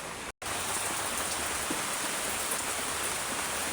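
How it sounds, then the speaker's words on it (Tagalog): Heavy rain pours down steadily, a dense even hiss of drops on surfaces, with a brief dropout near the start. "Lakas na naman ang ulan."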